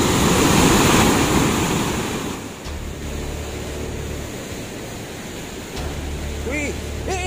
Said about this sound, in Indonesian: itu adalah air terjun yang sangat luar biasa